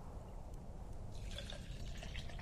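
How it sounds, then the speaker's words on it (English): Gasoline glugs from a gas can into a generator in Unturned, a steady liquid pour with faint dripping and trickling, quiet and close, no talking. "So let's fill up our generator with gas."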